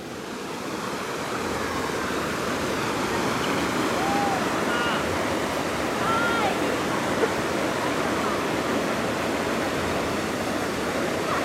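Waves washing onto a beach make a steady, broad wash of surf that fills the whole clip at an even level, with a few faint sounds drifting above it.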